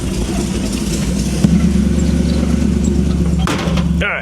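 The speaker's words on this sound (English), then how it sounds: "Guess we're gonna bump that idle up a little bit." A rebuilt car engine idles loud and close with its idle raised, a steady low rumble broken by a couple of brief clunks and a short hiss near the end.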